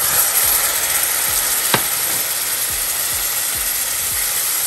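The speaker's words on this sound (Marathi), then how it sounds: "तो टोमॅटो छान परतवून घ्यायचा आहे." Tomatoes sautéing in a pan for pav bhaji give a steady, close sizzle with soft scraping stirs at intervals and one brief sharp clink partway through.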